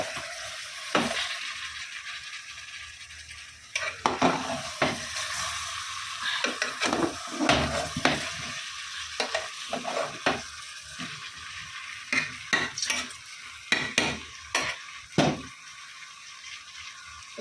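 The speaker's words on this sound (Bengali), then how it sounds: "আর এইখানে মাংস কষা হয়ে এসছে।" Chicken stir-fried in a pan for kosha, a steady sizzle with repeated scraping and stirring strokes, close and fairly loud with no talking.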